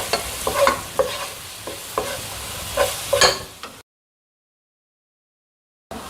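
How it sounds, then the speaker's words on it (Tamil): Ginger garlic paste sautés in a pan, with a close sizzle and repeated stirring scrapes and clicks, then sudden silence for about two seconds before the sizzle returns briefly. "இப்போ நான் இஞ்சி பூண்டு பேஸ்ட் சேர்க்குறேங்க. பச்சை வாசனை போகிற வரைக்கும் நம்ம வதக்கிக்கலாம்."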